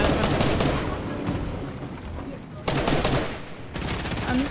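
Gunfire in the Fortnite battle royale video game, dense bursts of rapid shots filling most of the stretch with a brief lull in the middle, loud and close, with faint voices underneath.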